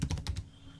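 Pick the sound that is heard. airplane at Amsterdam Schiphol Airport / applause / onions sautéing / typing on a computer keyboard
typing on a computer keyboard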